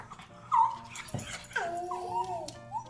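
A dog whimpers and yips indoors near a window as its owner arrives home, giving several high, wavering whines, with a soft voice faint in the background.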